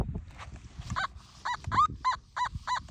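Short, loud warbling electronic tones pulse in quick repeated bursts, a Nokta Simplex Ultra metal detector's false signal beep off big iron on 99 tone, over faint outdoor rustling and handling noise.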